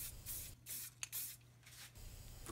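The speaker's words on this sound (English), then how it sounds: "The process begins with a spray coat of primer." Short bursts of aerosol primer sprayed onto a model, several hissing passes in a row separated by brief pauses, close and fairly quiet.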